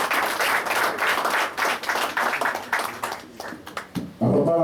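Audience applause at an anniversary gathering of the NDE family in Indonesia: dense, fairly close clapping for about four seconds, tapering near the end before a voice speaks.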